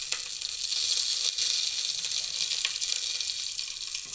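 Curry leaves and dried red chillies sizzle and crackle in hot oil in a home kitchen while cooking rice and lentils, a steady close hiss with small pops and no voices.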